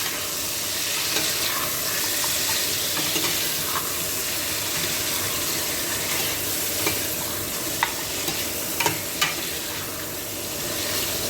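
Steady sizzling of meat and onions frying in a pot, with a constant hiss and occasional soft pops and clinks, no talking.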